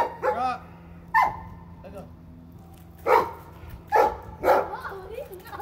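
A dog yelps and barks in short, close bursts from a swimming pool, several separate calls spaced over a few seconds, with people speaking between them.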